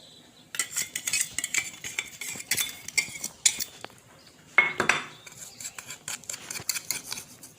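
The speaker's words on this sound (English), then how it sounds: "Mix it properly and then you add the cream into it" A spoon scrapes and clinks against a bowl in irregular bursts as sugar powder, refined flour and cream are mixed for eggless waffle batter, with short pauses between strokes and no talking.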